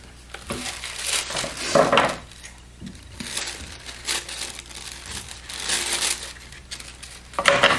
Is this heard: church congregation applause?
no